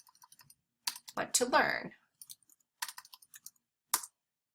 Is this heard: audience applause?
no